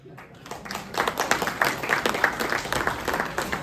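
Audience clapping at a Kannada religious discourse, building from quiet into a steady scattered patter of many hands that holds to the end.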